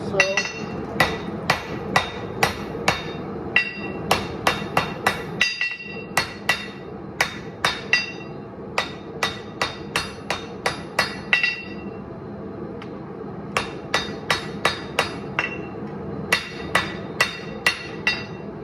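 Hammer forging a 300-layer Damascus steel hunting knife blank to draw out the ricasso and tang: a steady run of sharp, ringing metallic strikes in quick bursts with brief pauses, close and loud, no talk.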